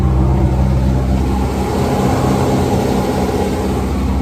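Yamaha 9.9 outboard motor running on a 1990 Caulkins 22ft Bartender boat, a loud steady close-up engine drone with constant low rumble throughout, no talking.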